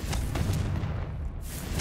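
A Confringo spell explodes in the video game Hogwarts Legacy, a loud, dense blast with a sustained rumbling roar that fills the whole moment without any voice.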